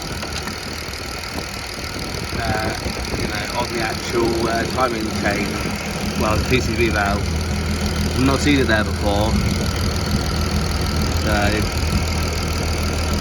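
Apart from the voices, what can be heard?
MK5 Golf R32 turbo VR6 engine idling with cap off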